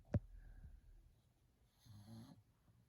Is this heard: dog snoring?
yes